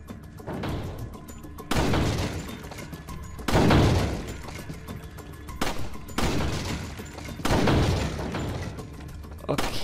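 Pistol gunfire in Resident Evil 4 HD on the PS3: about five loud, booming shots land roughly two seconds apart, each leaving a long, crashing tail.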